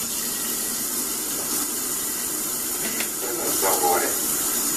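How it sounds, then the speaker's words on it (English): Celery rinsed under a running kitchen tap during a stir-fry preparation: a steady, hissing stream of water that swells slightly near the end, with a voice talking faintly underneath. "he's going to rinse the celery off."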